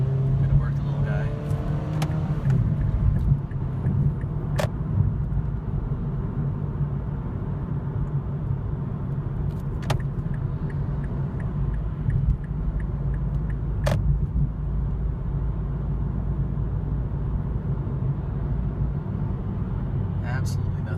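A small automatic car, a little Fiesta, cruises on a freeway, giving a steady engine drone and road rumble from inside the cabin, with a few faint clicks over the continuous noise.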